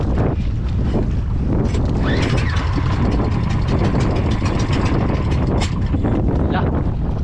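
A boat's new engine runs steadily at sea on the Pacific, a constant drone under heavy wind buffeting and water noise, close and loud throughout with faint voices now and then.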